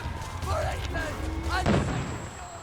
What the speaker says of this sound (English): they're throwing flashbangs